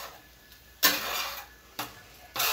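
Eggs being stirred in a hot cast iron pan: three bursts of scraping, close and moderately loud, separated by short quiet gaps.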